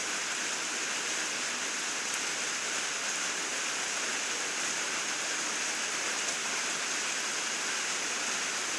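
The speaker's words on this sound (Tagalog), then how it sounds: "Yan umulan na naman, lakas na naman ang ulan." Heavy rain pours down on an afternoon, a dense, steady hiss of falling water that stays loud and unbroken from start to finish.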